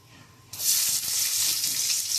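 Whole cumin, black cumin and dried chillies dropped into hot oil for dal tempering, bursting into a loud, bright sizzle that holds steady after a quiet start.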